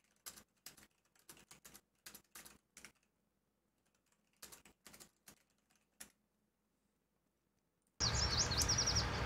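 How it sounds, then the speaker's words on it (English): A loud bird chirps in the Farming Simulator 19 video game, a sudden burst of rapid high tweets near the end that follows scattered, quiet computer keyboard typing. "Boy, that was a loud bird."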